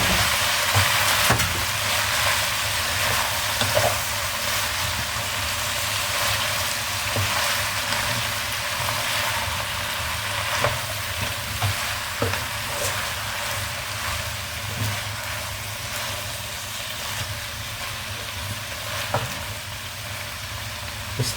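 Pechay stir-fried in a pan of adobo, a steady close sizzle and bubbling with scattered clinks and stirring scrapes, continuous throughout.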